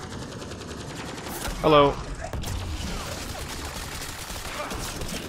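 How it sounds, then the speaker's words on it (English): A Tesla gun fires in Mass Effect: Andromeda, a rapid crackling electric burst lasting under a second amid steady game background noise, with a brief spoken word. "I like my dumb little Tesla gun, it's fun."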